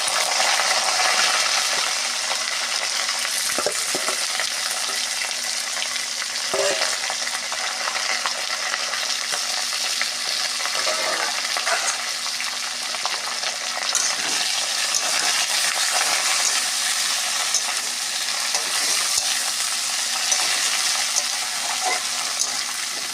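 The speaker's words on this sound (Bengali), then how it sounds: "এঁচোড়টা এই আলুর মধ্যে দিয়ে একটু ভেজে নেব।" Jackfruit and potatoes frying in hot oil, a continuous close sizzle with periodic scraping and knocking of a spatula stirring the pan, with no voices.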